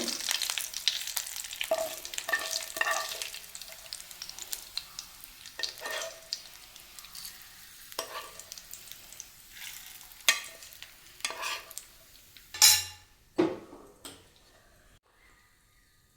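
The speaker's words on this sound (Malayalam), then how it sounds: "നമുക്ക് ബാക്കി മുളകും കറിവേപ്പിലയും കൂടെ അങ്ങ് ചേർത്ത് കൊടുക്കാം ഞാനിതിലെല്ലാം ചേർത്ത് കൊടുക്കുകയാണ്" Green chillies and curry leaves hit frying onions for an egg roast gravy, giving a close crackling sizzle with scattered spatula scrapes that grow louder and busier near the end before easing off.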